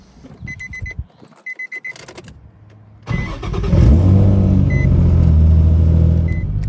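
A Nissan 350Z fitted with a swapped HR engine cranks with a few short chimes and clicks, then fires up with a loud catch and settles into a strong, steady idle close by, with no talking.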